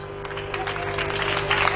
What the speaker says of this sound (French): Allez, un applaudissement pour les donateurs